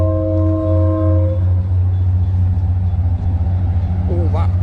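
A train horn honks at a distance near a commuter rail station, a sustained tonal blast for over a second over a steady low vehicle rumble, with a voice speaking toward the end.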